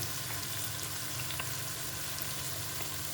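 Ginger garlic paste fries in a pan for vegetable biryani, giving off a steady, dense sizzle that stays constant throughout with no talking.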